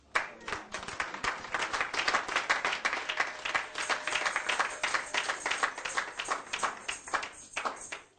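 A church congregation applauding and clapping in joyful acclaim of the Lord, a dense, steady round of many hands lasting several seconds, fairly close.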